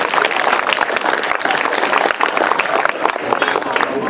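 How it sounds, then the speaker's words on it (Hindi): Schoolchildren and guests at a pollution awareness prize ceremony in Sikar, Rajasthan applaud the winners with loud, sustained clapping that swells and dips slightly throughout. "एक बार सारे विनर्स के लिए जोरदार तालियां"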